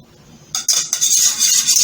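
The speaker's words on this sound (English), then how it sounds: "whisking my 2 eggs" Two eggs whisked with a fork in a bowl, starting after a short quiet pause with a couple of sharp clinks and then a fast continuous metallic scraping and clatter, close and fairly loud.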